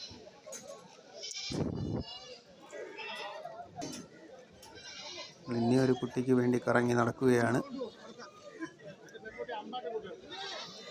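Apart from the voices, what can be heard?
goats bleating at a goat market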